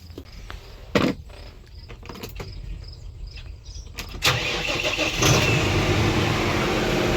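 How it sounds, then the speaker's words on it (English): A farm tractor left with its hazard lights on overnight is started: a few clicks and clunks, then the engine cranks and catches, settling into a loud, steady running rumble close by. "We're gonna get the tractor now."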